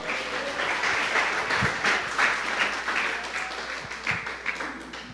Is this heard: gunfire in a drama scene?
no